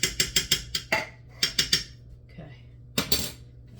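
Metal spoon scraping and clinking against a pot while stirring pork and beans, a quick run of sharp close taps, then a pause and a few more clinks, with no talk.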